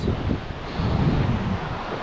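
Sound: light sea breeze and waves

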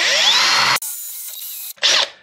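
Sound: drilling into tiles with 6mm TCT drill bit

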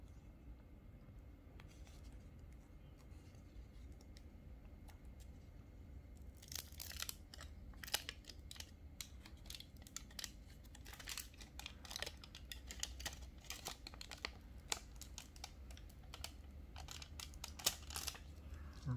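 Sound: aluminum foil tape being handled and applied

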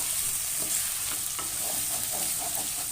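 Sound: frying in a pan for palak paneer

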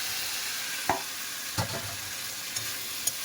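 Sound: sautéing fried potato and taro with spices

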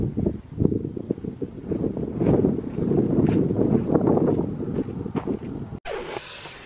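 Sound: wind blowing outdoors

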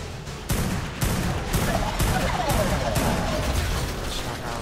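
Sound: gunfire in ARK Survival Evolved video game

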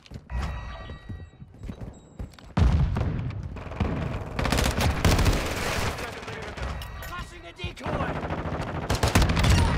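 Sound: gunfire from Tempus Razorback rifle in Call of Duty video game

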